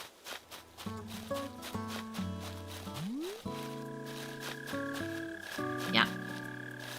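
An underground mole cricket in the Animal Crossing video game gives off a steady croaking trill, close and clear, layered over light tonal background music with a brief bright chime near the end.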